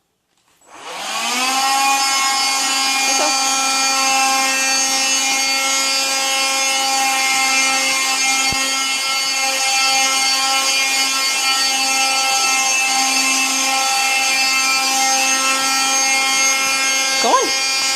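Household vacuum cleaner starting up and then running steadily nearby, a loud whine with strong tonal hum held for the whole stretch, with small knocks and a child and adult faintly present.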